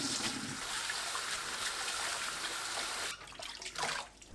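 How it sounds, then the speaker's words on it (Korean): Bellflower root being rinsed in a bowl of water, a close, continuous splashing and sloshing that breaks into a few separate swishes and drips toward the end. "물에 2번 헹궈주세요."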